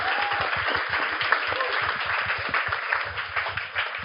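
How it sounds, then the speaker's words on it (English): Applause from a live audience at a Melbourne podcast event celebrating Labor's victory, steady dense clapping for about four seconds with a low rumble underneath and no voices over it. "Can you give them a round of applause?"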